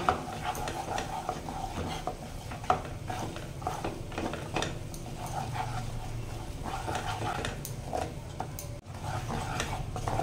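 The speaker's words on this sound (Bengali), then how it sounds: "ময়দাকে এখানে ভালোভাবে একটু নাড়িয়ে নেব" Flour is stirred into melted butter and garlic in a pan while making hot butter garlic chicken, with a soft continuous scraping and faint sizzle, steady throughout, and a dog barking intermittently in the background.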